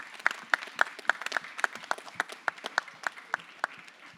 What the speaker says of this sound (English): I just want all of us to just give them a huge applause.